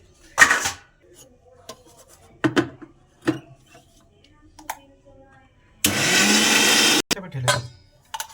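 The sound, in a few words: blender grinding boiled spinach, coriander and ginger into paste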